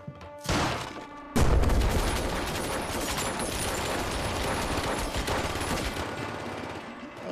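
Dense, sustained gunfire in a scene from the TV crime drama Mayor of Kingstown: a sharp opening blast followed by seconds of continuous rapid shots and echoing clatter.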